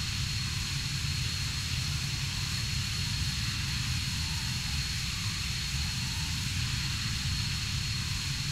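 The A-164 Wipeout aircraft in the game Arma 3 flies with a steady, dense engine roar. The loud, broadband drone holds constant and close throughout, with no breaks.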